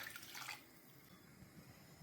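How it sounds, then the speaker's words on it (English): Water pours into a cooking pot of parboiled rice, cooked beans, stew and fish stock for jollof, a short bright splash of about half a second that gives way to a quiet simmering hiss. "More water to cook."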